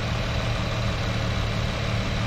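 A 2009 Infiniti FX35 engine idles at a steady low rumble, close by, even and unchanging through the short stretch with no talking.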